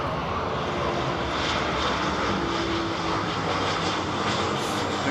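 A320neo-family airliner, Virgin flight VS5, taxiing at London Heathrow: a steady, unbroken engine rumble and hiss, moderately loud and constant, without talk.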